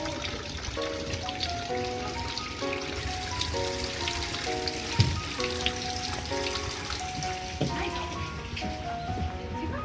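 Water pours from spouts and splashes onto metal pipes at a large Japanese temple, a steady patter and trickle like rain falling on hard surfaces, with faint chimes and a busy outdoor background.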